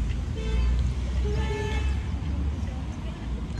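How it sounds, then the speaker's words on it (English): Town traffic near a park in Scotland on a sunny day: a steady roadway rumble of passing cars and buses, with a short car horn toot early on and faint voices mixed in. "Calming sounds of traffic."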